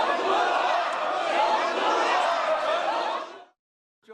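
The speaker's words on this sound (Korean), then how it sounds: "본회의장에선 윤 의원을 향해 전두환이라는 고성과 야유가 쏟아졌습니다." Loud, dense crowd noise from shouting and booing fills the National Assembly plenary hall, a continuous roar of many voices that cuts off abruptly near the end.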